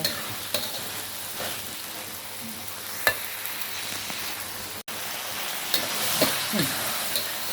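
Pork belly stir-frying with red curry paste in a hot pan, a steady dense sizzle with scattered crackles and occasional scraping stir strokes, close and loud with no talking.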